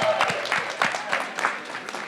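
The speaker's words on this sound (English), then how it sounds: "How about a big round of applause?" A crowd applauds at a grand opening ribbon cutting for a shop on a city street, producing moderate, uneven clapping with a few louder claps and some voices mixed in.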